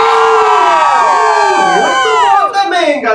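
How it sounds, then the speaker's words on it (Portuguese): A crowd of children cheering and shouting at a game show, loud and close, with high, overlapping voices and whoops rising and falling together and no words picked out. "Essa torcida tá legal!"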